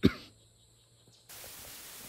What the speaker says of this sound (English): I got attacked by a coughing fit